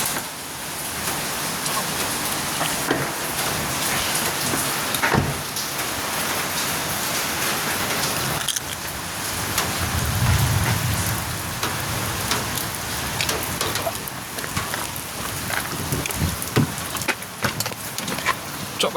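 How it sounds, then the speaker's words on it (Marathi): Heavy rain falls in a steady, dense hiss that stays loud and close throughout, with scattered sharper drips and taps and a brief low rumble near the middle. "भरपूर पाऊस आहे पहा."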